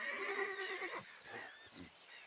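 A horse neighs in a played film, a loud, wavering whinny lasting about a second, followed by softer snorts and low shuffling sounds.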